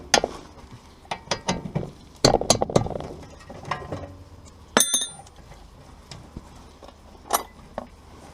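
A ratchet spanner works on the brake caliper of a Honda S2000, giving scattered metallic clicks and ratcheting clinks in short bursts with pauses, close by and without talk.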